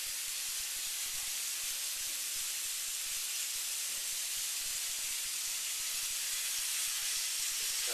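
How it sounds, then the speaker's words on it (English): Onions sizzle and fry in hot bacon fat in a pan, giving a steady, close, continuous hiss with no talk over it. "Your onions are cooking in the bacon fat. This is frying up nicely here."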